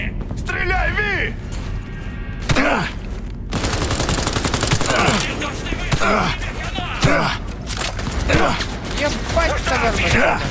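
Rapid gunfire bursts from Cyberpunk 2077 combat, loud and dense throughout, mixed with game sound effects while people talk and shout over it.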